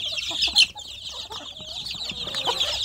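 Native village chicks peep and cluck in a busy, continuous flutter as they peck at feed, with one louder chirp early on and no voices.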